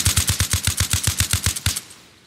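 Rapid automatic gunfire in Arma Reforger: a close, loud burst of about fourteen evenly spaced shots in a steady rhythm, ending abruptly and trailing into a short echo, with no talking.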